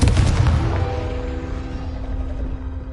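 A Confringo fire blast spell in the video game Hogwarts Legacy lands with a heavy booming explosion at the start, then a rumbling fiery roar that slowly fades over a few seconds, loud and close.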